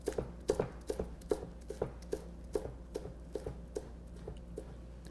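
Basil being chopped with a knife on a board at a steady, fairly quick rhythm of crisp close taps, quiet, with no talking.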